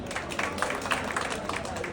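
An audience claps for film director Badiul Alam Khokon, a moderate, continuous patter of many hands in a hall, somewhat distant.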